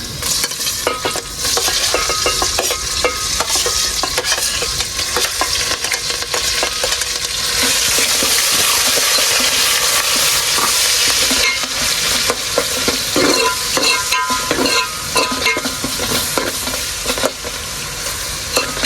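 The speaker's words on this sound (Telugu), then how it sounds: "ఉల్లిగడ్డలు వేసుకున్న తర్వాత ఒక 2 నిమిషాలు చిన్న సిమ్లో పెట్టుకొని వేగించుకున్నాము" Onions and green chilies fry in a pan over low flame, a loud, steady sizzle running throughout with frequent stirring scrapes and occasional clinks of a utensil.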